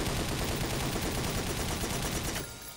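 A magazine emptied in one unbroken rapid stream of gunfire in the game Madness Interactive Reloaded, loud and continuous before cutting off abruptly near the end.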